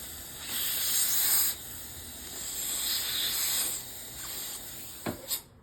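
Water runs into a sink in a steady hiss that swells and eases over several seconds, with a couple of short splashes near the end; no talking.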